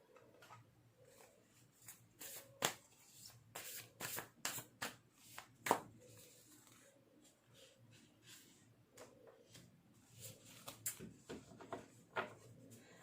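Tarot cards are shuffled by hand in a quiet room, a run of sharp riffling bursts and soft slides spaced irregularly, close and fairly faint.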